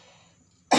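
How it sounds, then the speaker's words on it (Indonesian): A single sharp, loud cough bursts out at the very end of a near-silent stretch indoors during a teacher's lecture on pedagogy. "Saya lagi batuk"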